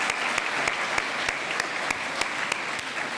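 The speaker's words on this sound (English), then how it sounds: "So one more big applause." An audience at an awards gala applauds steadily, a dense wash of many hands clapping at even loudness throughout, with a few sharper claps standing out.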